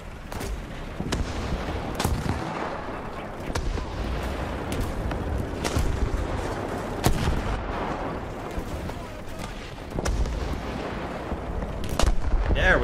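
Artillery fire in War Thunder, with repeated sharp, loud gun blasts every second or two over a steady rumbling battlefield background, no talk.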